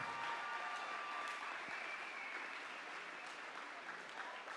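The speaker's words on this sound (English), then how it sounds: "let's give the students and athletes another round of applause" Distant, faint applause from an audience at a school athletics awards show, a steady wash of clapping for students and athletes heard from afar.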